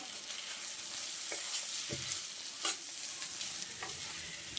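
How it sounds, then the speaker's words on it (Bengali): Egg curry being sautéed in a pan, a close, steady sizzle with several distinct spatula scrapes and knocks as it is stirred, no voices. "ডিমটা দেওয়ার পর আবারও আমি খুব ভালোভাবে সব কিছু কষিয়ে নেব।"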